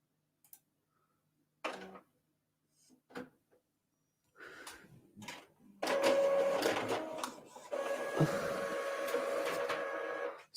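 A home printer starts with a few scattered clicks and feed noises, then runs steadily with a loud mechanical whir and rattle of paper moving through it, heard close and with no voices.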